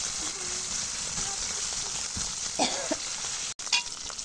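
Fish coated in salt, chili powder and ginger-garlic paste frying in hot oil in a pan, with a steady close sizzle and a few brief clatters and a short break near the end.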